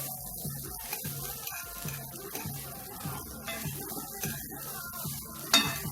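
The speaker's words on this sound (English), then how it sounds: "So I'm tossing it now on a low fire." Homemade egg fried rice tossed in a pan over low heat, a soft steady sizzle with rhythmic scraping and shuffling as the rice is moved, ending in a sharper clank.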